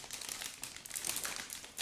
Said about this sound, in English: Now I am trying to open the next plastic bag.